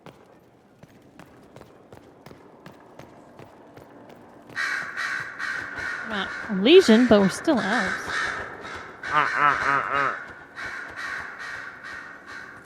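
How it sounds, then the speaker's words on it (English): Crows caw loudly in Dragon Age: Inquisition, a rapid cluster of harsh calls that builds and repeats over game footsteps. A voice talks at the start, before the calls come in. "Them some loud ass birds."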